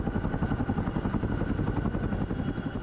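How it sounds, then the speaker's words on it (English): An Airbus H-125 helicopter flies during a Bambi bucket water drop in wildfire training, its rotor producing a steady, fairly loud rhythmic thumping with nothing else heard. "Airbus helicopter H-125 and Rotex-operated K-MAX carried out a Bambi bucket drop."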